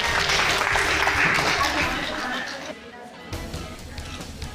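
Applause from a seated audience at a women's empowerment gathering in a school hall in Mehrauli, loud dense clapping for the first few seconds before thinning to scattered, fading claps.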